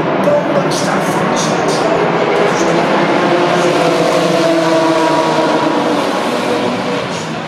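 DTM Trophy race cars launching off the grid at the Nürburgring Grand Prix circuit, a dense, loud roar of many engines accelerating together, with a commentator talking excitedly over it.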